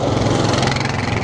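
A beach patrol vehicle's engine drones steadily as it drives along the Blackpool promenade, close and fairly loud for a brief moment, with no talk.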